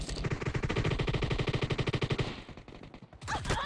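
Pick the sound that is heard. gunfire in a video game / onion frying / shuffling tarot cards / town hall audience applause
gunfire in a video game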